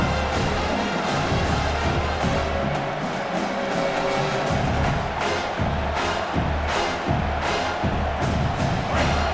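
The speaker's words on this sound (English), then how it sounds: "The roar of the crowd trying to fuel this defense to keep them pinned in their own end" Crowd roaring in the EA Sports College Football video game stadium, a loud continuous wash of noise carrying rhythmic surges and thumps throughout.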